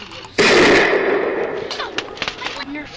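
Rapid burst of Nerf toy blaster fire, a loud sustained rattling volley that starts abruptly then trails into scattered clicks and thumps, close by, with voices calling out during a mock spy battle.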